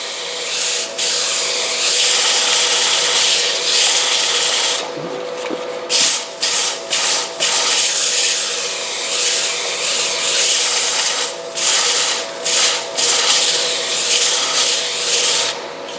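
Abrasive rubbing as the inside edge of a wooden bowl rim is lightly sanded on the lathe, a steady close scratchy hiss with a few brief pauses and breaks, no talk.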